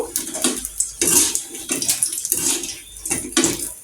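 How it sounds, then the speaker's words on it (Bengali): Chili pakoras deep-frying slowly in oil over low heat, a rushing, bubbling crackle that surges and pulses unevenly, close and fairly loud. "দেখো আমি কিন্তু একদম আস্তে জালে অনেক সুন্দর মশমশা করে ভেজে নিব।"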